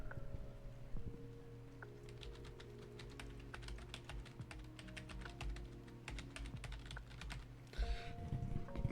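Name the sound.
typing on a computer keyboard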